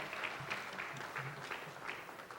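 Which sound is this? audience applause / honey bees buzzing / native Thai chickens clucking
audience applause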